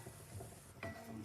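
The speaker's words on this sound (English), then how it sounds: "Continue frying the tomatoes." Caramelized tomatoes fry in a skillet for smoked baingan bharta, a soft continuous sizzle with stirring scrapes and a brief utensil clink near the middle, close and quiet, no voices.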